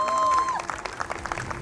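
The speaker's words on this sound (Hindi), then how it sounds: "कौशिक के लिए जोरदार तालियां।" A crowd breaks into applause at an anniversary celebration, scattered claps building after a brief tone, with voices mixed in underneath.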